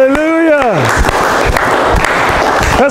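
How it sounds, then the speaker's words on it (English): A church congregation bursts into steady applause with scattered cheering during a sermon, loud and sustained, following a shouted preacher's voice at the start. "Give the Lord a round of applause if you believe it"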